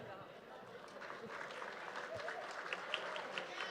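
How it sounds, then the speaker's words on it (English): Light, scattered applause from an audience at a morning real estate meeting as a past president is welcomed to the stage, a thin, steady patter of clapping lasting a few seconds. "thank you for that smattering golf clap"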